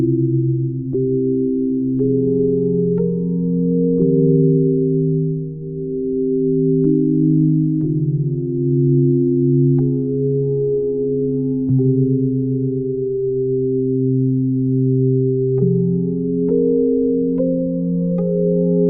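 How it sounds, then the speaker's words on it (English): A pure sine-wave retro synth pad called Too Pure sustains smooth, hollow chords that step to new notes every few seconds, steady and loud, with faint clicks at each change. "So a nice sine wave based retro synth sound"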